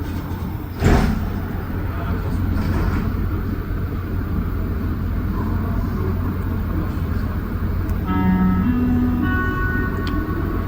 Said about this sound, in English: Hear that new announcement, relatively new announcement they've been making when it's the last train of the night